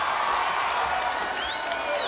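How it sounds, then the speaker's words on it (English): A cheering section roars at a team competition grand championship, a loud, continuous wash of crowd noise with whoops and a rising whistle-like tone near the end. "Listen to his cheering section go wild."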